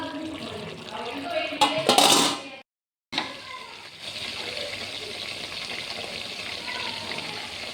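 Water is poured into a pot of chicken biryani cooking with tomato and yogurt. A loud, splashing gush stops abruptly, then a steady, softer hiss follows.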